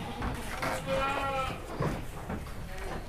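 Large goats at an Indonesian livestock sale, with a few bleats rising in the middle over a noisy, crowded background of people talking.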